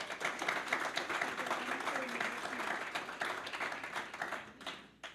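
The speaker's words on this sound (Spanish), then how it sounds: "pido un aplauso de verdad para Jótica hoy" A live audience at a literary gathering breaks into sustained applause, dense clapping that holds steady then tapers off near the end.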